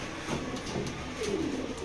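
Young pigeons from strong breeding lines coo softly in a loft, with a couple of short, low calls heard close by and no talk.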